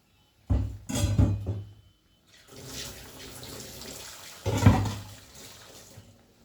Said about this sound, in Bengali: দিয়ে দিচ্ছি এই যে মিক্সিটা ধোয়া জলটা